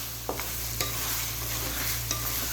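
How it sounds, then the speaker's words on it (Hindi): Mutton for pulao frying in a pot over low heat, a steady soft sizzle with a constant low hum beneath and a few light clinks of a spoon against the metal. "गोश्त हमारा अच्छे तरीके से फ्राई हो चुका है।"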